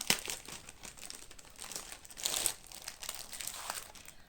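Plastic crinkles and rustles in bursts as Christmas ornament cross-stitch kit items are pulled from a bag, close up, with a louder crackle midway and no talking.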